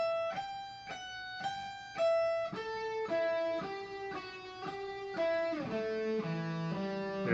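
Distorted electric metal guitar slowly plays a sweep-picking and legato lick, the same phrase repeated across descending octaves as a steady run of clear, sustained notes, close and loud with no talking.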